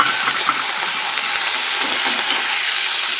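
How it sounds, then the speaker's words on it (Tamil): Chillies and mint sautéing in a pan for mint chutney, a loud, steady, close sizzle with faint stirring scrapes, no voices. "மிளகா போட்டு நல்லா இதை வதக்கிட்டு"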